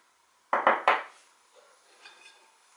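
A sieve of icing sugar tapped against the side of a hand, three quick dull knocks close together, followed by faint rustling and near silence.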